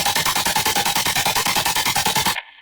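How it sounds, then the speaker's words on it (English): Loud, buzzy synth bass pulsing in fast, even repeated notes for a couple of seconds, then cutting off sharply. "And then we have this bass here"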